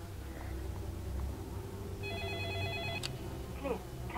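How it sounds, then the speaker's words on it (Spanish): A telephone rings inside the zombie game Escape Dead Island, a short electronic trill with steady tones that sits over a low ambient hum and then cuts off with a sharp click near the end. "Los teléfonos van a sonar sí o sí"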